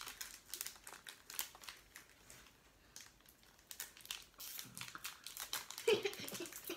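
Japanese Pokémon booster packs are torn open by hand, producing irregular crinkling and tearing of the packaging in uneven bursts, with a voice speaking briefly in the background.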